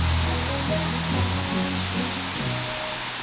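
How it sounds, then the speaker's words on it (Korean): Kuang Si waterfall in Luang Prabang, Laos, in the dry season, a steady broadband rush of falling water that holds at an even level throughout, with no voices. "꽝시폭포는"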